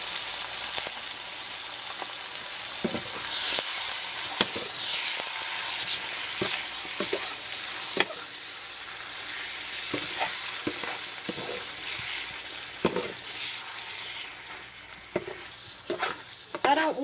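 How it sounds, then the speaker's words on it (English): Marinara sauce hits a hot pan and sizzles steadily, with intermittent scraping and clinking as it is stirred, close and continuous with no speech. "I'm going to put in some of this marinara sauce"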